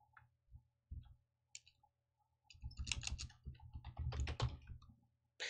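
Typing on a computer keyboard, with scattered soft clicks giving way to a denser burst of key taps and thumps. The sound is quiet and close, with no voice.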